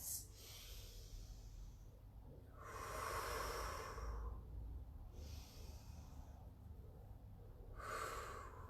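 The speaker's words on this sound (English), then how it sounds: "taking those nice deep breaths" Slow deep breathing during a Pilates stretch on a mat, three long airy inhale-exhale cycles, close and quiet with no talk.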